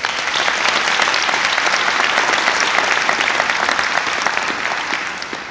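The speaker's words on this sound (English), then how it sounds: "Give yourselves a round of applause." An audience gives itself a round of applause, with thick, energetic clapping sustained for several seconds and then tapering slightly at the end.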